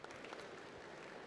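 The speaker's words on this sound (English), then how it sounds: "everyone give a huge round of applause for Sudap" Audience applause at a Web Summit pitch competition quarterfinal, a dense wash of clapping filling the whole moment at a fairly low, steady level with no voice over it.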